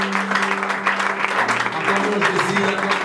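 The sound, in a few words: congregation applauding in church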